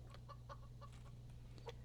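Chickens cluck in the survival video game Subsistence, a run of short, close clucks and chatter over a steady low hum, with no speech.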